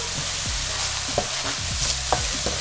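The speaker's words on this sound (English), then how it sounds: "just saute that down for about 2 to 3 minutes" Chopped onions, ginger and garlic sauteing in oil in a pan, a steady bright sizzle with soft stirring scrapes and clinks, close and fairly quiet with no talk.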